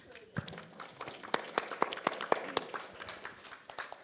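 An audience at a talk on adolescents with learning difficulties applauds the parents, giving a steady patter of many hands clapping that carries on at moderate volume across the room.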